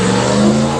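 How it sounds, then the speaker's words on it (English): An IROC Camaro revving as it pulls away from an outdoor car show, a loud, close, sustained engine roar with a rising whine, no talking. "IROC Camaro leaving the show. You just heard."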